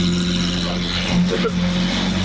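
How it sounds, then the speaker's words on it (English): A Lamborghini engine hums and rumbles nearby as the car drives away, its steady drone shifting slightly in pitch. "Derek, jump in his car and drive it away."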